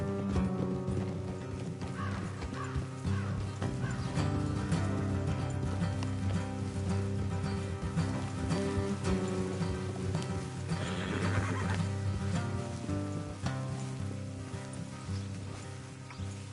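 Horses neigh and whinny amid clip-clopping hooves in the video game Red Dead Redemption II, set against a steady bed of background music and ambient noise throughout.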